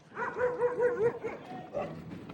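A dog barks and yelps in a quick run of close, agitated bursts while chasing after someone, sharp and loud with a brief whimpering tail.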